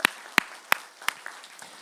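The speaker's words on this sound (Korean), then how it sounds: "우리 하나님께 영광의 박수 한번 힘차게 올려드리겠습니다" A church congregation claps in a short burst, a few distinct, fairly sharp claps evenly spaced and fading, without voices over them.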